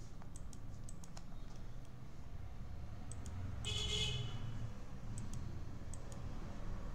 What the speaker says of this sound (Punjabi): ਖਾਲੀ ਜਗ੍ਹਾ ਤੇ ਰਾਈਟ ਕਲਿੱਕ, ਜੋ ਚੀਜ਼ ਨਹੀਂ ਚਾਹੀਦੀ ਉਹਦੇ ਉੱਤੇ ਕਲਿੱਕ ਕਰਨਾ ਹੈ